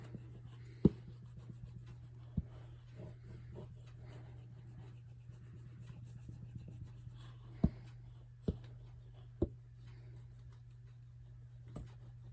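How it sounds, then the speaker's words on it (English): A pen or pencil writes numbers by hand on paper, a quiet run of scratching strokes with a few sharper taps, close up over a low steady hum, with no talking. "now I'm going to write it out in expanded form"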